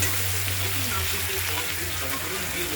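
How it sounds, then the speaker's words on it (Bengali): Black cumin paste added to hot oil for a Bengali fish curry, giving a steady, loud sizzle and frying hiss throughout with a low background hum. "এবার আমি যেটা করব সেটা হলো এই কালো জিরা বাটাটা আমি দিয়ে দিলাম।"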